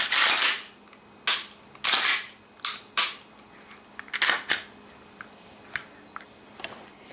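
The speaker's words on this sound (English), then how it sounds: "Perform a dry function test to ensure all parts have been correctly reassembled." Clicks from a Glock semi-automatic pistol during a dry function test: a string of sharp, close mechanical snaps from the slide and trigger, several loud ones early and fainter clicks spaced irregularly later, with no voices.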